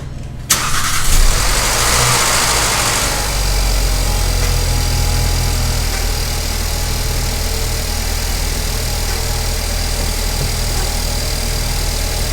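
A MK6 Volkswagen Jetta 1.8T engine cranks and fires after a spark plug replacement, revs briefly and then settles into a steady, even idle, loud and close throughout.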